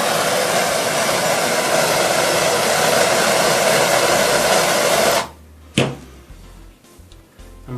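A heat gun blows hot air over a Kaizen foam case insert with a loud, steady roaring whoosh for about five seconds, then cuts off, leaving quiet handling knocks and thumps.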